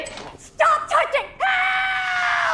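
A woman screams in a tense film assault scene, a few sharp cries followed by one long sustained high scream, loud and close with no talk over it.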